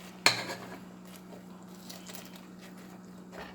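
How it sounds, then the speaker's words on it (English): Shrimp stirred in a pan with butter sauce, starting with a sharp metallic clack of utensil on pan, then soft scraping and light sizzling, with another clink at the end. "And then I'm going to add the shrimp. And I'm also going to eat shrimp. I just put in the pan. And I'm gonna stir it around"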